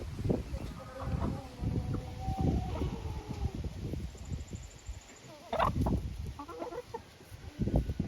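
A rooster clucks and murmurs in short, low bursts close by, joined by other chickens' soft clucks and occasional higher calls in a rural yard.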